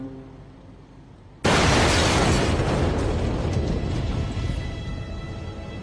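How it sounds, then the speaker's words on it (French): A car bomb explodes at a port, a sudden loud blast that breaks a quiet moment and then rumbles on in a dense, sustained roar that slowly fades. "Les Algérois sont réveillés par l'explosion d'une voiture piégée sur le port."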